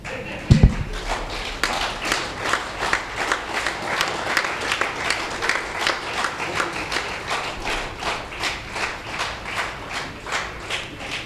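An audience at a monthly Hindi poetry gathering at IPACS Bhawan gives a poet a long round of applause, with steady, rhythmic clapping that fills the hall for about eleven seconds after a thump at the start.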